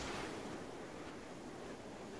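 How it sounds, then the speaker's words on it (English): Wind blowing in the ARMA 3 video game, a steady broad rushing roar at a high location, faint and constant throughout with no voices. "It's very windy up here."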